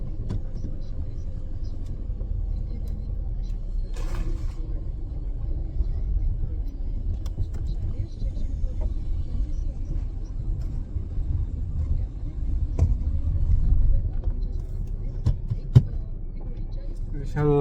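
A steady, low engine rumble and road noise fill the inside of a moving car, with a few faint clicks and bumps, while people talk over it.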